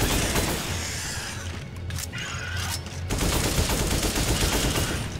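Dense, sustained gunfire from Resident Evil 5 fills a cave boss fight, a loud continuous barrage of overlapping shots and booms with no pause.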